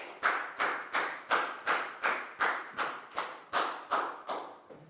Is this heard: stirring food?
no